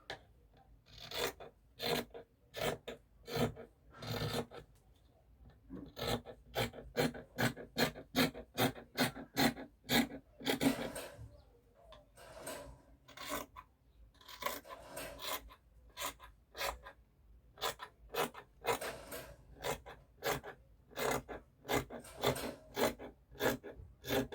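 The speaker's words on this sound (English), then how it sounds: "Now we're going to go ahead to cut out this piece off." Fabric for a structured cape is cut with scissors, a long run of crisp snipping and rasping strokes at close range, fairly quiet, irregular in pace with a few brief pauses.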